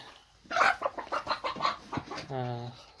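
Hens cluck inside a chicken coop in a quick series of short, near bursts, ending with a longer drawn-out call.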